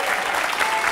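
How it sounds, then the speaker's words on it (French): Studio audience applause on a French TV talk show about child prodigies: steady dense clapping that fills the whole short moment with no voices. "Je crois qu'on peut vraiment l'applaudir très fort parce qu'il est adorable."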